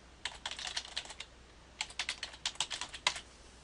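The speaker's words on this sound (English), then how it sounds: "So I typed in alisonlowenthal.com" A web address is typed on a computer keyboard in two short bursts of crisp, close key clicks separated by a brief pause, the second burst ending on a firmer keystroke.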